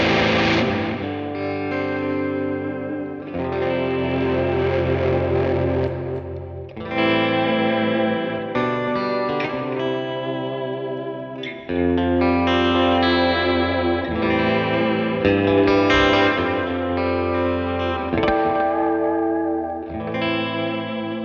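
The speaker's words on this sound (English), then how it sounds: "There's a volume pedal that you could program into it as well to get classic volume pedal sounds." An electric guitar through a Keyztone Wahouwah multi-wah pedal set to volume-pedal mode plays chords that swell in and fade back, loud and continuous with some distortion and echo, without fully dropping to silence.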